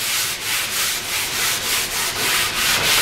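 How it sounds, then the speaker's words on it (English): Steady scuffing of a 220-grit sanding sponge across a varnished walnut surface, a dry rhythmic rasp of repeated back-and-forth strokes, close and continuous with no talking. "So I'm just going to sand this up a little bit with this 220 sanding sponge."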